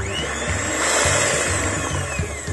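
An electric hand mixer with beaters whirs steadily while whipping muffin batter made with yogurt and lemon flavouring, a close, continuous motor buzz with faint rhythmic knocks against the bowl and no talking.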